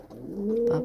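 A single short, throaty coo from a recently caught, wounded pigeon, near and fairly soft, rising slightly at the end.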